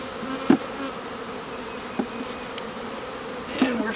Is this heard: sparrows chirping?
no